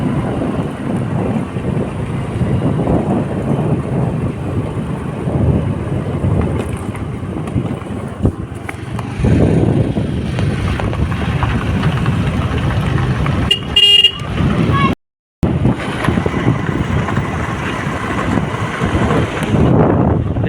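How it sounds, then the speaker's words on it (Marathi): Car driving along a road near Satara, steady wind and road rumble throughout with a short horn toot partway, a brief dropout, then continued driving noise. "तर आता आपले पप्पा गाडी चालवत आहेत."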